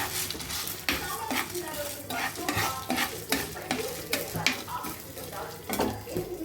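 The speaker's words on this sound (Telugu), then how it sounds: "ఇప్పుడు పోపులు వేయించేసుకున్నాం." Tempering spices for a sesame chutney sizzle in hot oil as a utensil stirs and scrapes the pan in repeated strokes, close and fairly loud, with the frying hiss continuing underneath.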